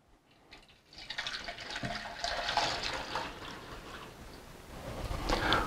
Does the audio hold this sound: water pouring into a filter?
yes